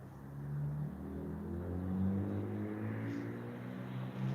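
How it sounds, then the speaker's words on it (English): Car engine idling in the background during a late-night wait beside a railway line, a steady low droning rumble with humming harmonics that holds throughout without any voices. "Got a car running in the background, so I can't really hear."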